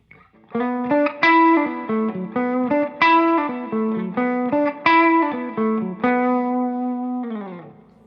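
A clean electric guitar through a Fender Blues Junior tube amp and 2x12 cabinet plays a melodic line of plucked notes and chords with a warm amp tone, ending on a sustained, fading chord.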